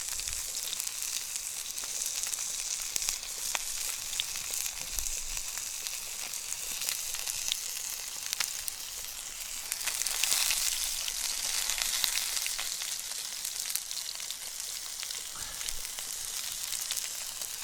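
Steak sizzles while frying over a campfire at a winter bushcraft camp, making a steady, loud hiss and crackle that continues without pause, with occasional faint pops and no talking.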